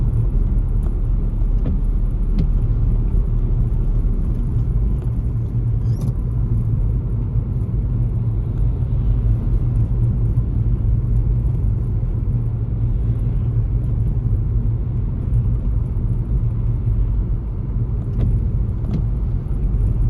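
Steady low rumbling drone of a car driving on a town road near Littleborough, Rochdale, during a driving test, constant engine and tyre noise heard from inside the cabin with no talking.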